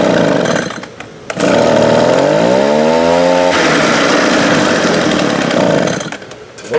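A two-stroke leaf blower engine runs after a carburetor, fuel line and spark plug rebuild, roaring loud and close at high throttle with a rising then falling whine before it settles back down.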